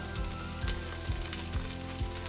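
Cumin seeds crackle in hot oil alongside onions, making a steady, close, bright sizzle. Soft low thumps from stirring recur about every half second, and there is no talk.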